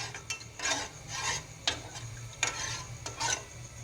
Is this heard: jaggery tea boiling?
yes